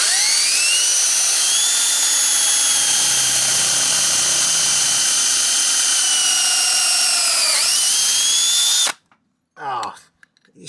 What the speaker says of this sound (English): let's go ahead and give this bit a try and see how it does